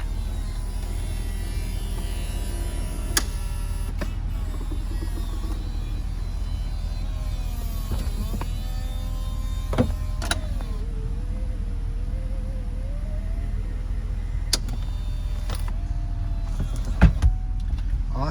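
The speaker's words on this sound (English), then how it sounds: "since it's a convertible, we'll go ahead, we'll put the top up so you can see the operation." The power top on a 2009 Corvette 3LT convertible whirs steadily as it rises over an idling engine, with motor hum, faint squeaks and a few clicks and clunks as it seats. The sounds are close, with no talking.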